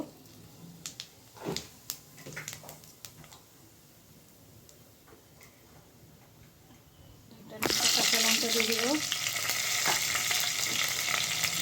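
Cumin seeds hit hot oil and burst into a loud, steady sizzle that keeps crackling close by, after a quieter stretch of faint clinks and kitchen handling.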